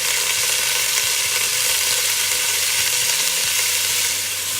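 Pork pieces frying in garlic-flavored oil inside a Ninja Foodi give a loud, continuous hiss and sizzle, close and unbroken, with a faint low hum running beneath.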